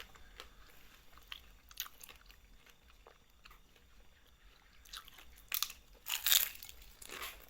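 Crunchy bites into crispy fried shrimp salad in a Thai yum style, with a few faint chews early on and then louder close-up crunching bursts near the end, no talking.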